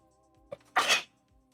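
A single big, forceful human sneeze, a short intake followed by a loud explosive burst, close and alone in a quiet room.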